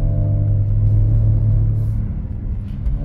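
A BMW drifting on snow, its engine a loud, steady low rumble close by that swells slightly before easing off.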